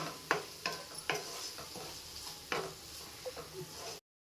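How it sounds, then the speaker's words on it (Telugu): Curry leaves and spices frying in a little oil, a soft continuous sizzle broken by a few sharp pops and spatters, close and fairly quiet. "ఇది కూడా ఇలా కొంచెం ఆయిల్లో ఫ్రై అవ్వాలండి, మసాలాలు కూడాను"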